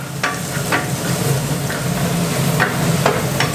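Garlic stir-frying in a hot pan for Thai crisp fried mussel pancakes, a steady close sizzle broken by several sharp scrapes of a spatula at irregular intervals, with no talking.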